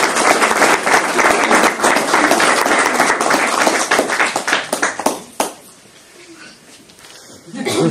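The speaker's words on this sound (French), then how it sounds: "c'est à eux que reviennent les applaudissements" Applause for teachers at a communal primary school ceremony in Comines-Warneton, Belgium: loud, dense clapping from a gathered crowd for about five seconds, then fading into scattered claps and quieter room noise.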